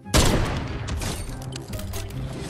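A single sharp gunshot in Fortnite, loud and close at the outset, followed by a rumbling tail and scattered game noises.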